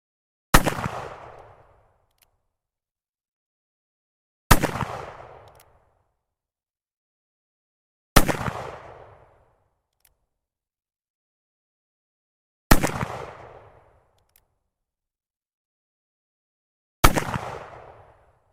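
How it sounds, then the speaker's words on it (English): Five loud black powder gunshots from a .44 WCF revolver fired down range, each a sharp crack followed by a fading boom, spaced about four seconds apart with silence between. "Just going to shoot all 5 rounds, and then we'll go to the 45 Colt."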